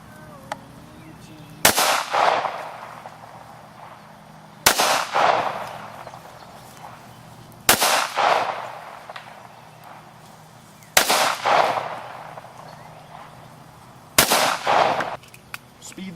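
Five loud, sharp muzzle loader gunshots ring out at roughly three-second intervals outdoors, each a sudden crack followed by a rumbling echo that decays before the next shot, with no talk between them.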